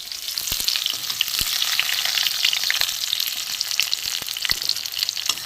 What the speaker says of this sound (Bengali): দেখুন পটলগুলো সুন্দর ভাজা হয়েছে, লাল করে ভাজা হয়ে গেছে।